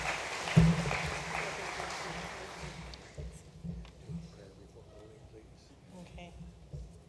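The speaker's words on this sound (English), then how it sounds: "let's give them a round of applause" Audience applause at a church laity session swells early as a broad wash of clapping, then thins and fades after a few seconds into scattered claps and room noise.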